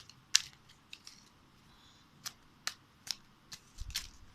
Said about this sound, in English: hopefully you can hear me shuffling